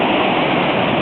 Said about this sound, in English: Let's look at the waterfall again.